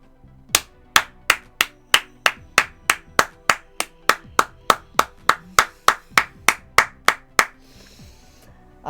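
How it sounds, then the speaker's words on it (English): Steady hand clapping, about twenty sharp claps at an even rhythm, close and loud, with no talking over them. "the reason why I'm clapping"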